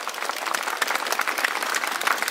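Brief burst of dense applause from an audience greeting Bulgarian koledari carol singers at a folk gathering, steady clapping from many hands with no talk over it.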